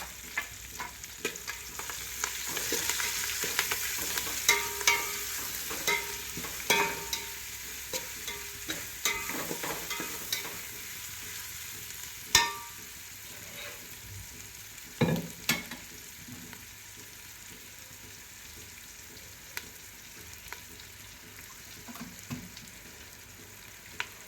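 Chopped tomatoes and ginger paste sizzle and fry in a pan, with steady close-up crackling, occasional stirring scrapes and sharp clinks throughout, no voices.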